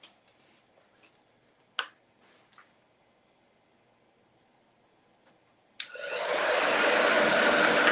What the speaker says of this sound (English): I'm just going to blow dry this real quick.